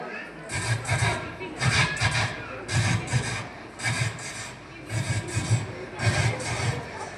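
A performer in a school talent-fair mimicry act imitates a passing train with a steady, rhythmic series of breathy chugging bursts over low thumps, close and fairly loud, with no other talk.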